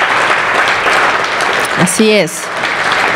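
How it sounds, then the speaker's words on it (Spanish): A church congregation applauds in a dense, continuous wash of clapping, with a voice briefly speaking over it. "Iglesia, damos un aplauso al Señor por las ofrendas y diezmos."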